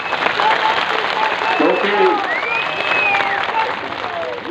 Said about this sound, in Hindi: इसलिए अपने लिए ताली बजाओगे।